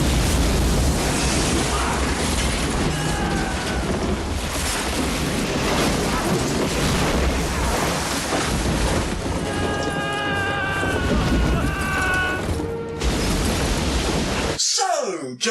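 A film explosion booms in a hotel room, a sustained roaring blast of broad noise that rumbles on for many seconds, fades into rising tonal wails and then cuts off abruptly near the end.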